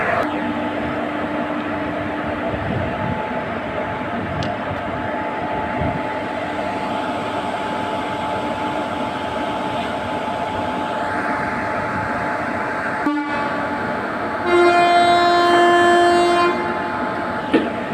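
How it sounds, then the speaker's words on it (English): Goods train pulling out of a railway yard, a steady rumble and rolling clatter of wagons throughout, with a sustained horn blast near the end. "Now this train is ready for departure."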